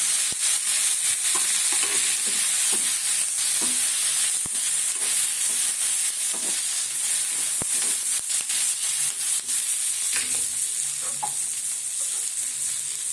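Curry leaves and onions frying in hot oil for a fish and mango kuzhambu, a loud continuous sizzle and crackle with occasional stirring scrapes, close and steady throughout with no talking.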